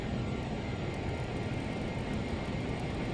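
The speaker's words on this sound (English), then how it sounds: "I can definitely hear the engines much better" Learjet 35 jet engines drone in the FlySimWare flight simulator, a continuous steady roar with a faint high whine, heard from inside at cruise altitude around 8,000 feet, alone without talk.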